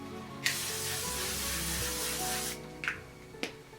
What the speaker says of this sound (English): let's put on our L'Oreal Infallible Setting Spray to finish off this look.